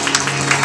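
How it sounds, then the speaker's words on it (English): A church congregation clapping hands during a worship service, a dense wash of many claps blended with crowd noise and a low sustained tone, brief and fairly loud. "Come on, clap those hands"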